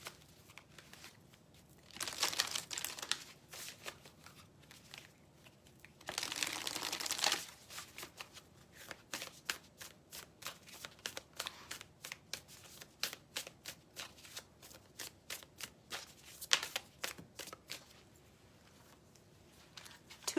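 A deck of oracle cards is shuffled over and over, with bursts of riffling and rapid soft flicks of cards slipping through the hands, close and quiet with no talk.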